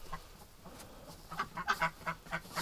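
A hen duck with a strong mothering instinct quacks in a rapid, uneven series of loud, close calls that grow more insistent toward the end.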